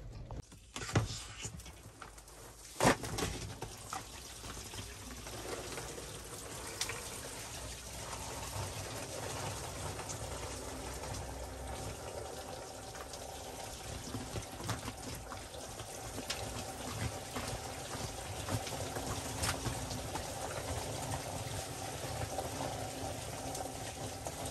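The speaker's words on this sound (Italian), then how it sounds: "simulerò la pioggia e vediamo se l'acqua va al suo posto" Water poured to simulate rain runs through a downpipe and filter into a small rainwater tank under a mini pergola, a steady close gushing and trickling flow with a few knocks near the start.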